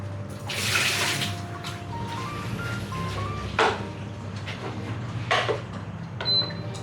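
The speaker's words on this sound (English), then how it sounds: "No, that's water boiling, not very exciting." Water boiling in a cooking pot on a home stove, a steady bubbling, rushing wash with a few brief louder surges, fairly close and with no talk over it.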